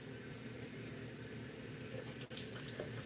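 A tap runs steadily, water splashing into a sink to wet a towel, a constant broadband rush with one brief dip partway through, close and moderately quiet.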